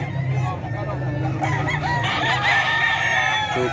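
Roosters crow at a chicken market in Bocaue, with clucking fowl and people talking in the background.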